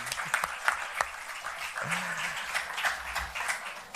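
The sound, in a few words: applause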